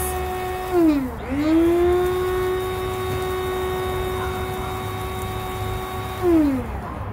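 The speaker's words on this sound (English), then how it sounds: "put this into your coffee grinder" A coffee grinder pulverizing guinea pig food pellets, a loud steady motor whine that rises from start-up, holds, dips and surges again, with no talk over it.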